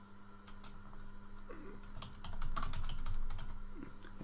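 Typing on a computer keyboard while filling out a form, a steady stream of light rapid key clicks at close range, growing slightly busier midway, with no talking.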